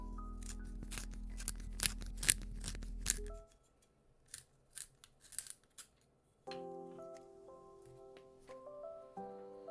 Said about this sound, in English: Here's some pencil sharpening ASMR